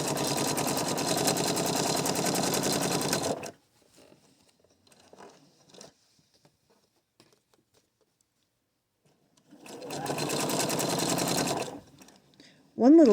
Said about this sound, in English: now we're going to sew down the whole seam, making sure that I match the edges as I go